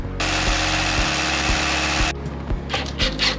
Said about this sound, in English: So I'll drill through at low level there